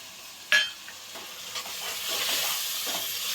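Tomatoes, mint and green chillies fry in a pan, a steady sizzle with a sharp clatter of stirring at the start and soft scraping after, no voices.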